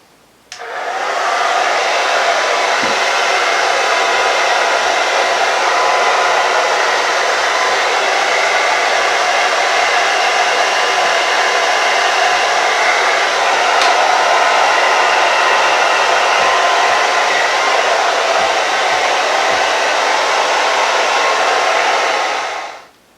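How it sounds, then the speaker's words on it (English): An old blow dryer runs continuously at a steady, loud whirring hum, starting abruptly and shutting off at the end. "Here's an old blow dryer."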